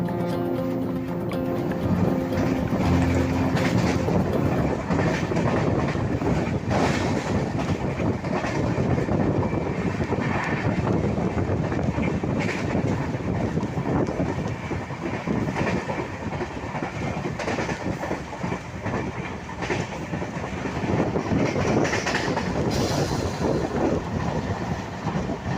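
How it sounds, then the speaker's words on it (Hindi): The Jaynagar Express passenger train runs at speed through the Madhubani district, passing a station without stopping. Its wheels clatter rhythmically on the rails with a constant rumble, and the coach sways. No one speaks. "इसी बीच हमारी ट्रेन ने फिर से गति पकड़ ली है और ये स्किप हो रही है खजोली रेलवे स्टेशन।"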